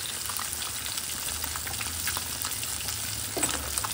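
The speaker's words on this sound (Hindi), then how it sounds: "यहाँ पर देखिए फिश फ्राई कर रही हूँ" Fish frying in hot oil on a low flame, a continuous crackling sizzle with occasional stirring clinks, close-up and without speech.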